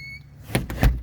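A few electronic beeps from a keypad, then two sharp mechanical clunks as the lock releases, close by.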